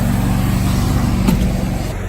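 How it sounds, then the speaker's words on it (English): A side-mounted generator built into the body of a food truck runs with a steady, low droning hum. It is close and loud, and it holds constant throughout. "we've got a side-mounted generator"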